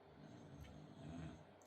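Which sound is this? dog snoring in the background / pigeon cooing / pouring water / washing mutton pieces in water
dog snoring in the background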